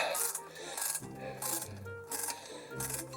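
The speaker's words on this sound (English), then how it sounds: "Love that good ratcheting noise, don't you?" A small ratchet wrench clicks in quick rhythmic bursts, close and fairly soft, while tightening a fastener on a Hachette R.M.S. Titanic model build.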